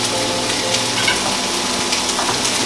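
Tomatoes hit a hot pan of onion and garlic and sizzle steadily, a close, even hiss of frying with faint stirring scrapes and no talking.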